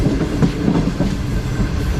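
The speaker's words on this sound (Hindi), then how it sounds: "41 अब काराकोरम एक्सप्रेस जो है अप्रोच बल्कि थ्रू पास करेगी स्लो स्पीड में मीटिंग रेलवे स्टेशन को" Karakoram Express passenger train rolling slowly through a railway station between Karachi and Lahore, a steady close rumble with rhythmic wheel clatter over the rail joints.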